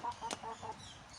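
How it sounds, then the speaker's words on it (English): Turkeys close by give short clucking calls in quick succession, several soft notes within about a second, fairly faint and alone. "Oh, I've got turkeys coming right up to me."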